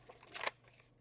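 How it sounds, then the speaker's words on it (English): Paper is cut with scissors to make ephemera for an altered book: one short, close crisp snip in a quiet room, with no talk. "And cutting this up now is just going to help me be able to see"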